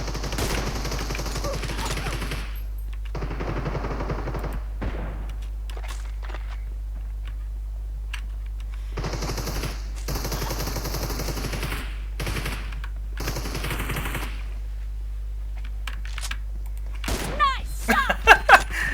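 Gunfire crackles in PUBG Mobile, bursts of automatic shots coming in separate clusters amid footsteps and game noise, with a steady low hum underneath and people chatting between and over the shots.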